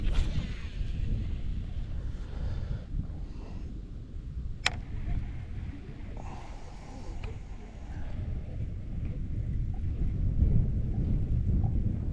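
Steady wind blows across a lake around a fishing boat, a broad low rumble with gusty buffeting on the microphone that swells toward the end, with no other clear sounds.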